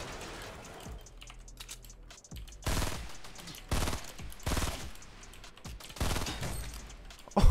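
Video game gunfire in a battle-royale style fight, heard as several loud broadband bursts of shots at irregular intervals over a steady background hum, with no voices.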